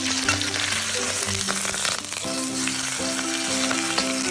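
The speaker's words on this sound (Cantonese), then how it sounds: "都係慢火煎下先" Fish bones and pork bones frying slowly in a pan for Cantonese soup, a continuous close sizzle with crackling pops and a background hum, and no talk.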